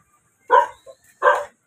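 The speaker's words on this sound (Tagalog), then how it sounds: "Ayun, may aso. Mukhang galit yata." A dog barks twice, sharp and close, with a short gap and a small yelp between the barks; no other sounds around them. Street in Tondo, Manila.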